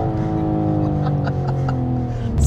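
A BMW M4 on the Nordschleife pulls hard out of a corner with a loud, droning engine note that climbs steadily in pitch as it accelerates, heard from inside the car.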